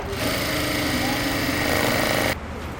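A sewing machine runs a straight seam during a stitching class, with a dense, steady mechanical whir and rapid needle chatter that cut off abruptly near the end, leaving a faint background hum.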